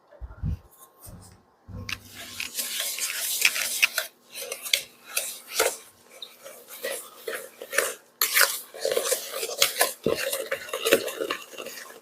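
A utensil stirring cookie dough with vanilla in a bowl, close clinks and scraping against the bowl in an irregular rhythm, with a few brief low thuds at the start.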